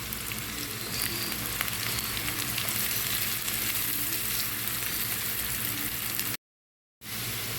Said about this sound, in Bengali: পেঁয়াজটা বাদামি করে ভেজে নেব এখন এখানে দিয়ে দেবো এক চামচ লবণ